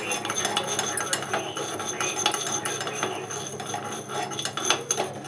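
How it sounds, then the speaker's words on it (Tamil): Black peppercorns dry-roasting in a pan on the stove, stirred steadily with a continuous close scraping and clinking rattle of spoon against metal, with no talking. "மிளகு ட்ரையாக வறுத்துக்கலாம்."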